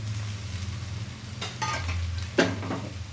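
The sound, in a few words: garlic and green chili paste frying with onions in a pan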